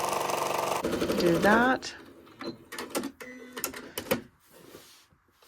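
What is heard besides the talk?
sewing machine stitching with black thread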